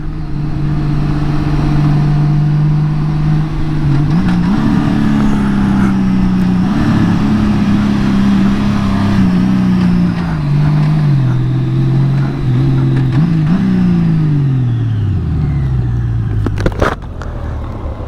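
Honda Goldwing motorcycle engine humming steadily while riding, loud and close, with gradual rises and dips in pitch as it accelerates and eases off, a smooth continuous drone with no talking.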